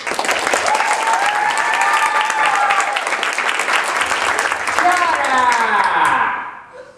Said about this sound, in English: Now, we'll do this by applause.